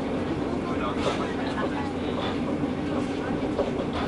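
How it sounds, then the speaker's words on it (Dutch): The Wendelstein rack railway train rumbles steadily along the track on ordinary adhesion, with a continuous low roar and faint rattling and clicking of the wheels throughout. "Hier rijdt de trein verder gewoon op gewone adhesie."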